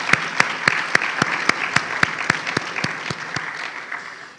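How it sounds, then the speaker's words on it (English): Conference audience clapping for themselves, with sharp, evenly spaced hand claps in a steady rhythm standing out above a softer bed of scattered applause, gradually thinning toward the end. "we want to give a clap for ourselves"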